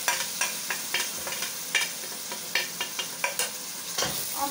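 Spices and reddened onions frying in a pan, a constant close sizzle broken by a series of sharp scraping stirs at an uneven rhythm, no talking.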